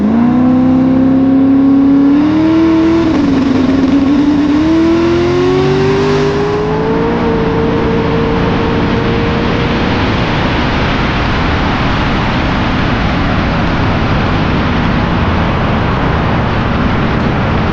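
A loud truck engine revs hard and climbs through its gears on a no-prep drag racing pass, slightly missing, then the roar settles into a broad, fading rumble.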